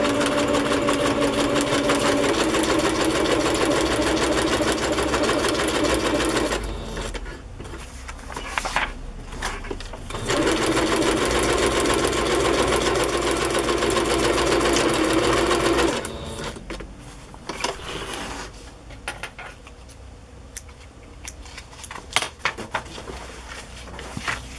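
A sewing machine stitches bookbinding pages, a loud close whirring run that pauses briefly, resumes, then stops, leaving quieter handling clicks and rustles at the end.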